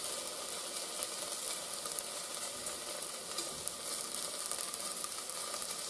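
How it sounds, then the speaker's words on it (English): Spring onions frying in a pan over reduced heat, a steady close sizzle with fine crackling running evenly throughout, no talking. "So I reduced the heat a bit now, so they don't burn, but get fried nicely"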